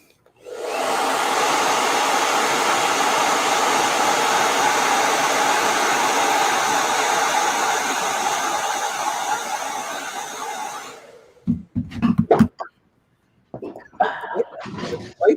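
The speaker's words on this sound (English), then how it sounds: "Hit that with a blow dryer." A handheld blow dryer runs with a loud, steady whooshing roar for about ten seconds and then switches off, followed by a few brief knocks and handling noises.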